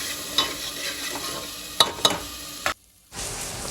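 Masala for mutton curry roasting in a pan, a soft steady sizzle with a few sharp spatula clicks and scrapes, close by, cutting to near silence briefly before the sizzle resumes.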